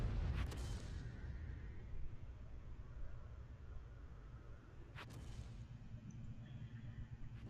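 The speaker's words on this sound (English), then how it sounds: "The AT-15 is now firing high explosive" World of Tanks battle audio with an AT-15 tank destroyer firing high-explosive shells: a sharp cannon blast near the start and a second report around five seconds, over a continuous low rumble of engines and battlefield noise.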